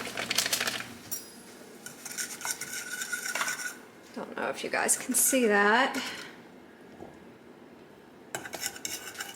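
A fork scrapes and clinks against a metal pot while stirring jello mix into just-boiled water, with the heat turned off; the scraping comes in bursts near the microphone, and someone talks briefly over it.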